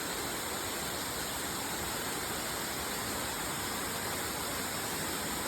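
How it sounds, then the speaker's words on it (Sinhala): Small streams of water tumble down a waterfall in rainy hill country near Wewalwatta, a steady, dense, broadband roar with no break. "මේ පොඩි පොඩි වතුර පාරවල් හැරිලා වැටෙනවා"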